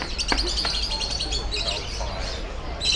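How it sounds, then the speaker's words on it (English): Caged birds singing at an outdoor bird market in Hong Kong, with repeated chirps and tweets over constant crowd and street noise, and voices talking in the background. "They'll bring them in a cage, put them out here, and then they can sing and talk to other birds."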